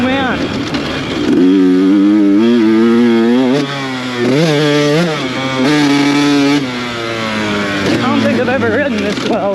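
A dirt bike engine, its carburetor recently repaired, revs loud and close during riding, rising and falling in pitch as the rider accelerates and backs off.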